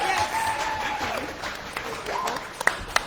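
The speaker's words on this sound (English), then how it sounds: "Can we clap it up for my brothers and sisters?" Audience clapping at a softball team celebration, a steady patter of applause filling the room, with a few sharper claps standing out near the end.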